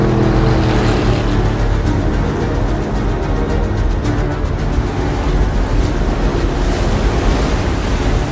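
Tsunami waves surge and water rushes through a bay in a disaster-film scene, with the drone of a boat engine and wind buffeting; loud, dense and continuous throughout, no speech.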